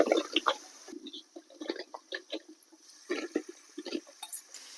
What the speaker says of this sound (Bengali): বাটার যে বাটিটা ছিল সেটা ধুয়ে জল দিয়ে দিচ্ছি